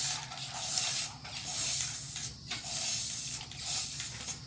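A spray can of sealer sprays in close, hissing bursts of a second or so, separated by brief gaps, loud and alone.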